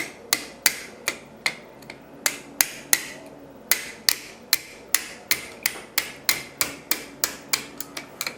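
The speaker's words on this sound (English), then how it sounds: "I'm going to hold it as I hit the pin in the rest of the way." Sharp metallic taps of a hammer driving a pin into an airsoft M4 gearbox, about twenty evenly spaced close strikes in a steady rhythm.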